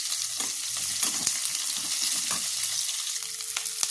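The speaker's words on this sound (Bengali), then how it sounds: "দেখুন, এরকমভাবে পেঁয়াজটা ভাজতে হবে হালকা করে।" Onions frying lightly in oil in a kadai for North Indian kadai paneer, a steady broad sizzle with occasional stirring clicks and scrapes, close and moderately loud, with no talking.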